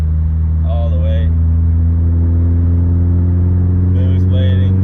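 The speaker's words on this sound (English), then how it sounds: "this is the reality of driving with a car with a 3-inch exhaust all the way" Tuned VW Golf 4 GTI with a 3-inch exhaust cruising, a loud steady low engine drone running throughout, with brief muffled talk heard twice over it.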